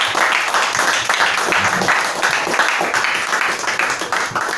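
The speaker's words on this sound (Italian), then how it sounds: "Antonio, facciamogli un applauso." Audience applause at an outdoor press conference in the Corundoli woods of Montecilfo, steady dense clapping from a crowd running throughout, moderately loud, with a faint voice underneath.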